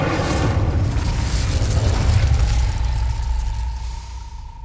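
Incendio fire spell cast in the Hogwarts Legacy video game, a loud booming burst of flame that roars for several seconds, then fades into a steady tonal hum.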